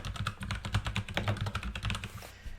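Rapid, close typing on a computer keyboard, with a steady run of crisp key clicks over about two and a half seconds that taper off near the end.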